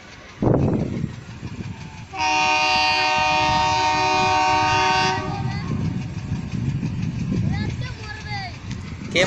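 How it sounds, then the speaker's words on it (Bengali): A train approaches on the Gangarampur railway bridge, sounding a long loud horn for several seconds over the deep rumble and clatter of the cars passing close by, with people talking nearby. "ট্রেন কিন্তু চলে আসছে"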